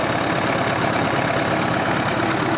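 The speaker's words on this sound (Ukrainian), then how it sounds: "Двигун йде, СМТ-22. Працює файно." An SMD-22 diesel engine in a homemade Kirovets-style tractor runs at a steady idle, a dense, loud, continuous knocking rumble with no talk.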